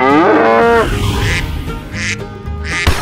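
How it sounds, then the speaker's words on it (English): A cartoon cow lets out a loud, drawn-out moo, a close and exaggerated animal call that falls away into a few brief quacking effects. "Cow."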